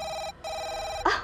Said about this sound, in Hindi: मुबारकी के फोन आने लगे।